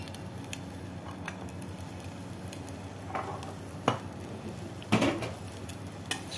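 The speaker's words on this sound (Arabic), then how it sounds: "هنشوح بقى التوميه كده مع الزيت" Garlic sautéing in oil for Egyptian koshari sauce, a steady soft sizzle with occasional clinks and scrapes of a utensil stirring in the pan, close and alone without talk.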